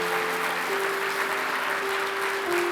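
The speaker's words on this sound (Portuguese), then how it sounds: "Eu gostaria que você desse um aplauso ao Senhor pela vida da Cláudia." Church congregation applauding the Lord in honor of a woman named Cláudia, a broad, even crowd clap under a faint sustained tone, continuous and fairly distant.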